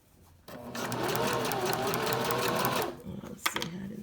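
A sewing machine runs in one steady burst of rapid stitching for a few seconds, sewing fabric with clear elastic close up, then stops, followed by a couple of soft clicks and handling sounds.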